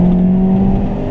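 A Renault Clio RS 197 engine drones steadily and loudly at close range in second gear, holding a low, even pitch as it pulls through the gear.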